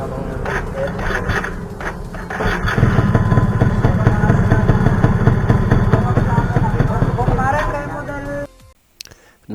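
Yamaha F1ZR motorcycle engine running after a starter repair, a close, steady rattling idle that rises into a busier revving stretch before cutting off near the end, with a voice speaking briefly over it.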